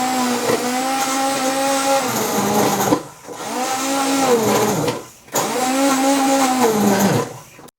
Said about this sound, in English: I'm just going to blend all this up.